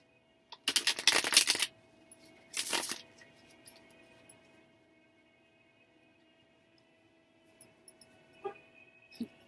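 A Thoth tarot deck is shuffled in two quick close bursts of riffling card noise against a quiet room hum, followed by a few faint taps and card handling sounds.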